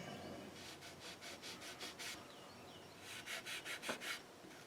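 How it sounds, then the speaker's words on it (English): Fine abrasive rubbing of a 300 grit fret eraser across the frets of an Ibanez RG-550M guitar, heard as a run of soft, rhythmic back-and-forth strokes, close up and fairly quiet, with a short pause partway before the strokes resume. "start with your fret erasers. We use the 300 grit."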